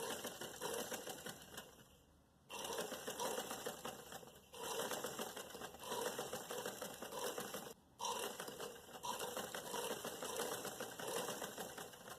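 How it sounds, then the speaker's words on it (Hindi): Sewing machine stitching a drawstring onto trousers, running in long steady bursts with a few brief pauses, close and fairly loud, no talking. "अब हम दूसरी साइड पे देखें डोरी को इस तरीके से रख के इसके ऊपर सिलाई लगा के इसको भी फिक्स कर लेंगे।"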